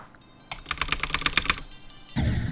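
Rapid keyboard key mashing during a Geometry Dash session: a quick burst of clustered clicks and taps, fairly close, ending with a louder thump and rustle, no talk.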